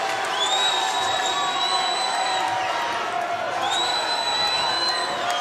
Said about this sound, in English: has lit up the Illinois crowd